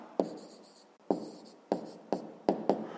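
A pen writes an answer on paper for a fifth-grade math exercise: six quick bursts of scratchy strokes with short pauses between them, close and fairly quiet.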